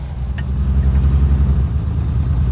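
A 1970 Mercedes-Benz 280SE on a road test drive gives off a steady low engine drone with a continuous rumble that stays loud and close, carrying no speech.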